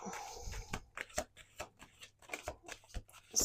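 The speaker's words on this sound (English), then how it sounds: "Let's do two more shuffles." Tarot cards being shuffled in quick riffling bursts, a series of short papery flutters and taps close by, with no talking.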